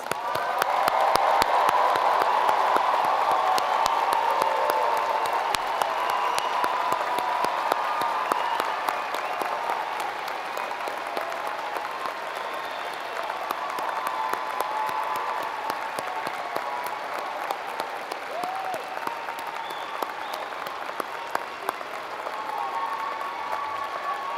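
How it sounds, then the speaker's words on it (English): Sustained, steady applause from a large university graduation audience honoring new Penn State master's graduates, a dense wash of clapping that stays even and fairly loud throughout. "Will all the new Penn State Master's graduates please rise and let us applaud their achievements."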